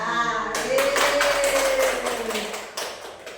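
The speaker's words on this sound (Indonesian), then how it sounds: "Tepuk siang, tepuk malam." Rhythmic group clapping of a 'tepuk siang, tepuk malam' clap chant at a teachers' session at an Indonesian primary school, a run of sharp, evenly spaced claps close by, with voices chanting along.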